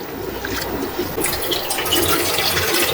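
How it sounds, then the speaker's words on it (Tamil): Water is poured from a vessel over soaked sago pearls in a kitchen, a steady close pour and gurgle that grows slightly fuller as the container fills, with no talking. "ஒரு கழுவு கழுவிட்டு அப்புறம் தண்ணி ஊற்றி வச்சுருங்க"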